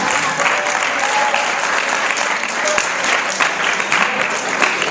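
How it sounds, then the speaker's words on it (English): Family, friends and students at a high school showcase applaud. Steady, dense crowd clapping carries throughout at an even level, with a few louder individual claps standing out. "So can we clap for the family and friends that were able to make it out today?"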